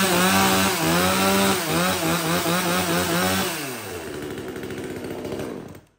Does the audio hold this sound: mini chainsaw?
yes